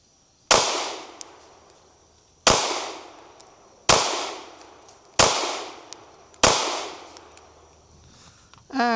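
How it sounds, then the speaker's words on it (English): Five sharp, loud pistol shots from a Tisas PX-9 Duty Comp fired at a target about 5 yards away, spaced roughly a second or two apart, each followed by a short echoing decay. "Take a couple of shots and see how it is."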